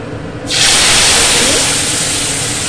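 Gram flour batter drops into hot oil and bursts into a loud, steady hiss that starts abruptly and then holds, close up.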